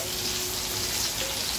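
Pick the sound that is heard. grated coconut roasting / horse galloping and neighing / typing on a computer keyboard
grated coconut roasting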